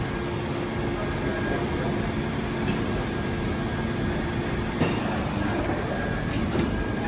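In a Merlo factory, a plastic injection moulding machine presses out a handle for a cab interior. Its steady, loud mechanical drone is broken by a few sharp clunks and hisses, with no voices.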